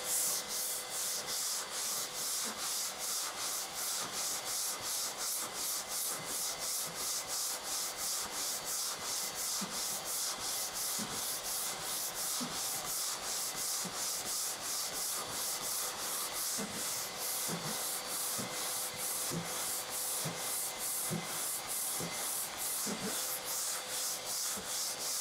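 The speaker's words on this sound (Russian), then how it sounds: "Наждак уже бэушный, есть небольшие забитости, но они не критичны." Hand sanding of filler primer with used, slightly clogged sandpaper: a close, steady, evenly paced scratchy rubbing that carries on throughout with no talking.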